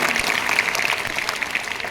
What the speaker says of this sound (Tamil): நல்ல உற்சாகமான கைத்தட்டலோடு.